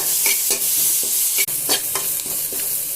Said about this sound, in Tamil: பொடியாக நறுக்கின ரெண்டு வெங்காயம் சேர்த்துக்கலாம் கறிவேப்பிலையும் சேர்த்துக்கலாம் நல்லா வதக்கிட்டுக்கலாம்